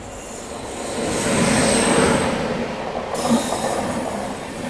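An empty Murudeshwar Express passenger train runs on its rails out of SMVT Bangalore, with a loud continuous rumble, rising wheel noise and a brief squeal partway through.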